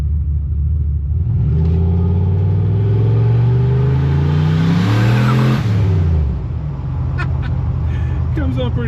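A turbocharged Chevrolet Silverado pickup in first gear roars up through a long, loud rev with rising tones, then drops back with turbo whoosh and settling rumble; a voice briefly intrudes near the end.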